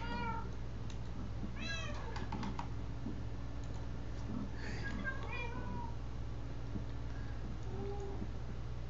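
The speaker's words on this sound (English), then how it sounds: "I have ocelots." Ocelots in the video game Minecraft give a few short, high meows early on and again near the middle, over a steady low hum and clicky keyboard typing, with no speech.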